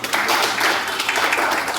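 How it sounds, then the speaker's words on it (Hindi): Applause from an audience at a memorial mushaira gathering in a hall, a dense, steady wash of many hands clapping for under two seconds without speech. "मैं चाहूंगा कि एक बार तालियां अग्रवाल जी के लिए भी बजनी चाहिए"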